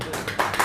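An audience claps in a few quick, close, sharp bursts, with a voice present alongside.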